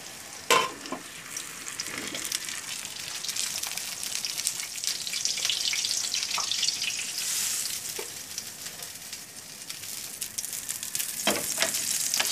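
Beans fry in oil in a pan, giving a steady, close sizzle with crackling spits and a few louder pops, continuing without talk.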